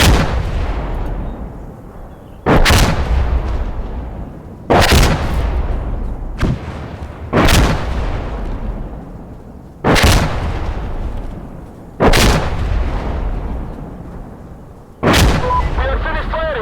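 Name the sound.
artillery fire in the video game Insurgency Sandstorm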